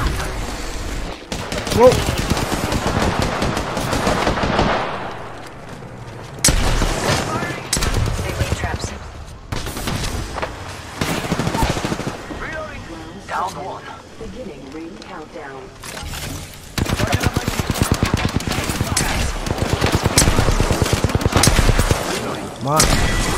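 Apex Legends gunfire, rapid bursts and volleys of shots cracking repeatedly across most of the stretch, loud and dense, with a player exclaiming over the shooting.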